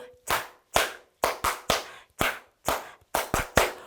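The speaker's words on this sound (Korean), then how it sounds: "박수 소리" Toddlers in a church Sunday school class clap their hands in short loud bursts, about a dozen sharp claps in irregular groups with brief silences between them.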